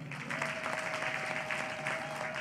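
A crowd claps steadily and evenly at a formal gathering, a dense wash of applause holding at constant strength from start to finish with no voices over it.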